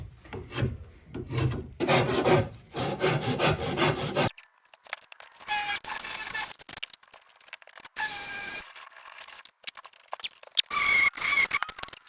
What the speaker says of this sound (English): I'm going to shave it down all around this to make this peg match that little circle.